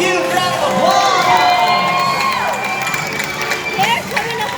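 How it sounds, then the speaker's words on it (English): A large crowd on a Central Florida outing cheers loudly, with high-pitched shouts, whoops and children's voices overlapping in an excited roar that eases slightly toward the end. "Let's give her a huge round of applause."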